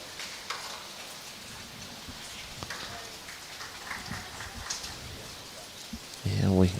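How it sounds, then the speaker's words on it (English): Steady rain falls on an outdoor Sydney sports ground during a masters finals day, a dense, even hiss of drops on surfaces with faint background voices and a louder thump near the end. "you can see the rain in the background"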